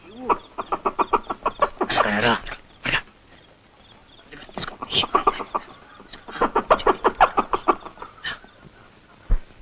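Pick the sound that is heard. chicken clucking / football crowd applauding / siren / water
chicken clucking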